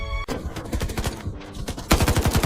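Rapid bursts of machine-gun fire rattle loudly in dense strings of sharp cracks, strafing a submarine's casing; a heavier volley swells near the end.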